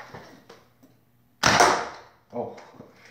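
A foam dart fired from a Marshmallow Crossbow smacks its target with one sharp, loud, close hit, set between quieter handling clicks.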